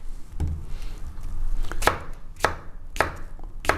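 Several separate knife chops through leeks hit a cutting board at a slow, uneven pace, each one a crisp close thud.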